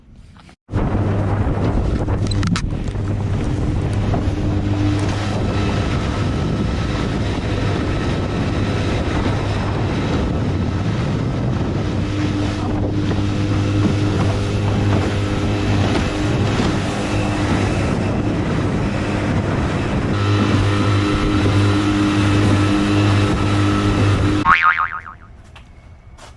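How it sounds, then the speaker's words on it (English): An 8-horsepower outboard motor on a skiff drones steadily and loudly for nearly the whole stretch, with a constant low hum and wind buffeting the microphone, then cuts off abruptly. "8 horsepower motor on the Skiff"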